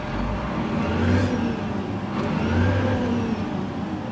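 A vehicle engine revving hard while hauling corn on a trailer, surging twice in deep rising roars between steady idling, close and loud with no talk over it.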